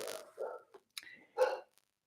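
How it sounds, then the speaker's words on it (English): A dog barks in a few short, sharp bursts separated by brief silences, heard indoors at moderate distance and somewhat faint. "there goes the dog"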